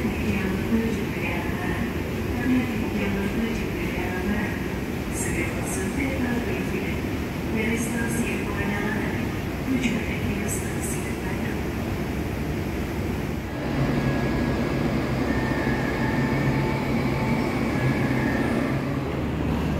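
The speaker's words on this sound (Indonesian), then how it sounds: "Dan ini adalah kereta Lodaya yang sudah tersedia di jalur 3." The KA Lodaya train stands at platform 3 of Bandung station, a steady rumble of engine and station noise filling the space, with a few brief high squeals and a shift in tone partway through, under background voices.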